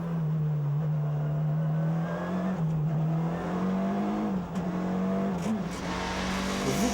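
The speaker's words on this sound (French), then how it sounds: "Sur ce circuit, on ne cesse d'être en accélération, façon dragster et freinage appuyé" A Citroën C4 rallycross car powers around a circuit, its turbocharged engine droning loud and close, rising and dipping in pitch through hard acceleration and braking, with faint tire noise.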